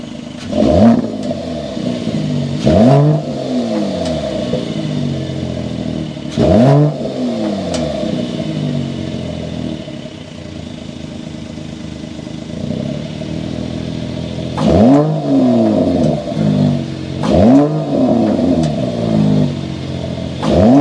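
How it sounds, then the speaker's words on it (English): A 2023 Mercedes-AMG GLE53 Coupe engine revs repeatedly in sharp bursts, its exhaust note rising and falling with short idle gaps between the blips, loud and close. "start it up so you can hear that exhaust note"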